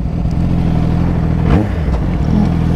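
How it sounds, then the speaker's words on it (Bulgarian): A motorcycle with a faulty, moaning engine idles and putters unevenly nearby, a steady low rumble broken by a short rising whine and a few clattering knocks, with no talk over it. "просто нещо му стена мотора"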